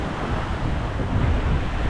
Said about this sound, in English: all the waves are crashing on the rocks